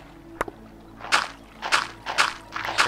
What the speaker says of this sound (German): Plätschern.